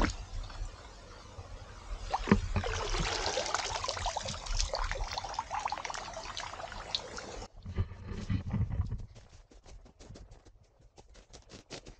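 Lake water trickling and dribbling through a piece of cloth used as a filter against algae at a Swedish lakeshore, soft steady patter close by, then broken splashes and drips toward the end.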